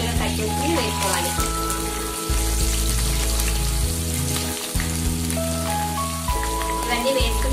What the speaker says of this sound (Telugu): ఇవన్నీ వేసుకుని దోరగా ఎర్రగా ఫ్రై చేసుకోవాలి.